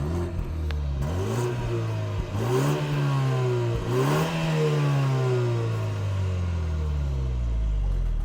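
A BMW G20 320i in Sport Plus mode revs its exhaust repeatedly, each loud rising blip followed by a falling note, three or four revs in a row, close and with no voices over it.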